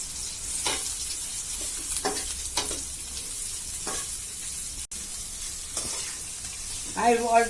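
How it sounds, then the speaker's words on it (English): Chopped onions and green chilies frying in oil in a pan for a garlic fish curry, a continuous hiss of sizzling broken by several scraping spoon stirs, close and clear, with a brief voice at the end. "Now I am going to put in the onions and the green chilies."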